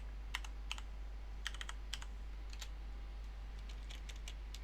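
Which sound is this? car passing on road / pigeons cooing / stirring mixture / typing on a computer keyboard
typing on a computer keyboard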